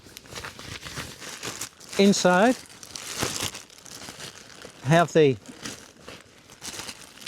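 A plastic bag is handled while packing hiking gear, giving near, irregular crinkling and rustling throughout, with a person talking over it in brief bursts.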